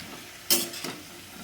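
Cabbage with spices and fish head is stirred in a pan, two quick scraping strokes against the metal over a soft, low sizzle.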